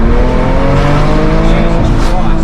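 A modified 750 hp Porsche 911 997 Turbo accelerates hard, its engine note climbing steadily in pitch through a loud, close, continuous roar that fills the whole short burst.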